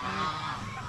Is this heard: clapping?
no